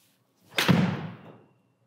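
A players distance golf iron strikes a ball with one solid, close thud that fades out over about a second, alone with no talk.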